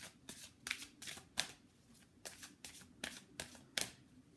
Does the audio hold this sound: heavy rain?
no